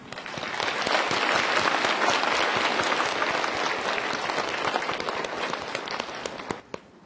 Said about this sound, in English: Please join us in welcoming all of our distinguished guests with a warm Thai